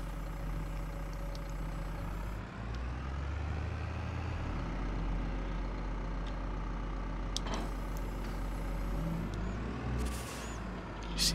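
A truck in Farming Simulator 22 idles and hums at a low, steady pitch nearby, shifting slightly in tone as it moves, with a brief hissing burst near the end.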